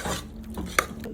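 A spoon stirs a vegetable curry in a cooking pot just after ground black pepper is added, with soft scraping and one sharper clink of metal on the pot, quiet and close.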